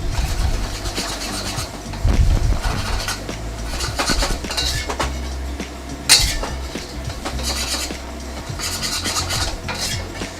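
Crispy Chinese garlic noodles tossed in a pan, giving repeated scraping, rattling and clinking of utensil on metal in an irregular rhythm, loud and close with no talking.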